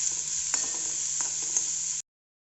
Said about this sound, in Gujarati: લસણની કચાશ દૂર થાય ત્યાં સુધી સાંતળવાનું છે